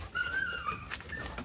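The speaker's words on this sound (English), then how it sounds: "Them some good dogs right there." Dogs whimpering softly at a fair distance, a thin high whine rising and falling in a few drawn-out cries over a low background rumble, with no talking.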